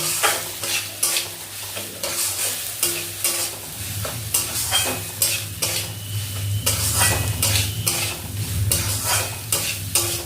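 Spices with turmeric stirred in a hot frying pan: a loud, close sizzle under repeated rhythmic scrapes and clatters of a utensil against the pan, with no talking.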